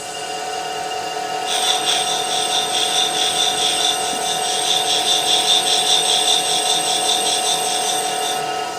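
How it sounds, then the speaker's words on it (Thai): A valve seat cutter scrapes an engine valve seat, producing a steady rhythmic metallic rasping with a ringing high tone that starts abruptly and continues evenly, close and fairly loud. "ล็อกมีดได้เลยนะครับล็อกมีด ปึ๊บแล้วก็ปาดได้เลยนะครับ ปาดได้เลย"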